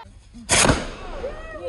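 A Tihar firework rocket gives a single sharp, loud bang-like burst at close range, followed by a brief fading rumble with people talking around it.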